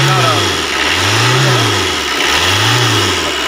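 Engine of a Tata Vista car after repair, running steadily and loud up close with a smooth, even drone that swells and eases in gentle repeated waves, with no knocking.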